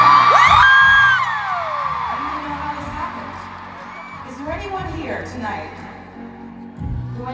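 A huge stadium concert crowd on the Eras Tour in Tampa screams and cheers loudly at first, then settles into a sustained roar with shrill whoops, while a voice talks over it.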